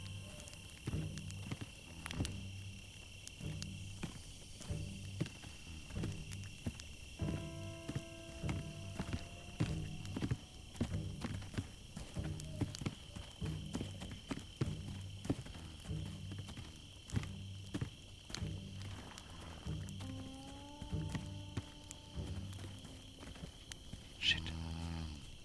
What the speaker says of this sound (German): Ich höre so viele Schritte.